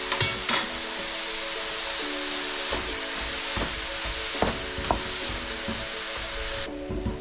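Rice with broccoli frying in a pan while a utensil stirs it, giving a continuous sizzle broken by several sharp scraping strokes against the pan, near and fairly loud, with no voices.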